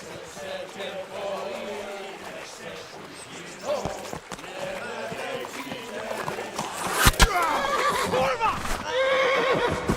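Horses in the medieval game Kingdom Come Deliverance whinny loudly at a riverbank, with clip-clopping hooves and splashy movement mixed in and a shout partway through.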